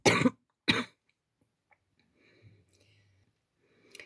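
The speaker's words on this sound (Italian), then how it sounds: "ecco, un po' di tosse" A woman coughs twice, sharp and close, followed by faint throat-clearing noises and soft rustles in an otherwise quiet room during a jewelry-making session.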